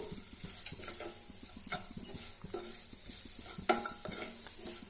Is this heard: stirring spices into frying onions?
yes